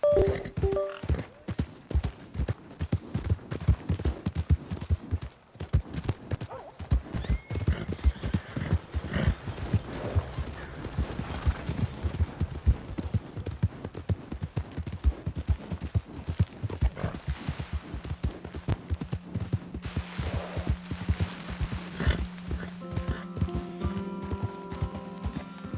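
Horse hooves gallop in steady, rapid clip-clop rhythm through Red Dead Redemption 2, loud and continuous with a low droning tone joining near the end.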